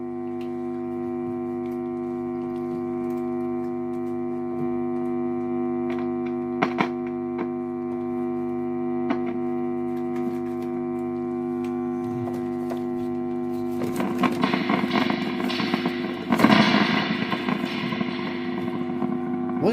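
A steady electrical hum with occasional faint ticks, then a burst of crashing, splashy metallic reverb noise near the end.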